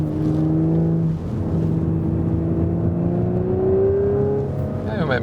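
Audi S4 sedan with a 3-liter V6 in dynamic mode, engine droning and climbing in pitch under acceleration, a gear change early on, heard steadily from inside the cabin.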